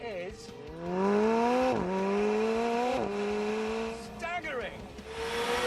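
McLaren P1 engine in The Grand Tour Game, rising through repeated gear shifts with sharp drops near 1.8 and 3 seconds, a steady loud drone with a brief whine midway, a voice speaking over it.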